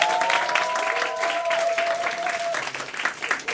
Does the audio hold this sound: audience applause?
yes